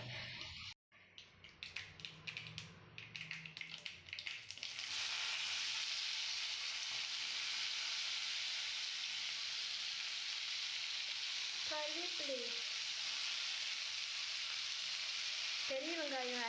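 Mustard seeds frying in hot oil with cloves and cinnamon pieces in a pan: a few seconds of crackling pops, then a loud, steady sizzle that continues to the end, with a couple of brief tonal chirps late on.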